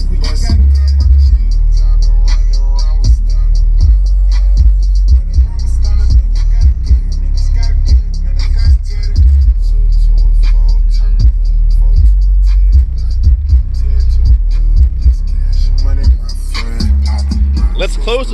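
Subwoofer bass pumps heavy booming low end through an SUV with the trunk area rattling, continuous rhythmic throbbing from rap music playing loud and close throughout.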